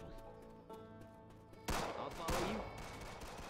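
Gunfire in a video game, a burst of loud, rapid shots breaking in after a quieter musical stretch, with sharp repeated cracks continuing to the end.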